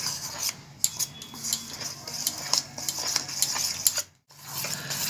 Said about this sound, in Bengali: এরপর সব উপকরণগুলো আমি মেখে নিচ্ছি।